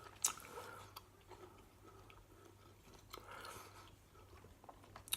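Close, quiet chewing of a piece of steak marinated in a spice rub, with soft wet mastication and small bites repeating unevenly for several seconds, no talking.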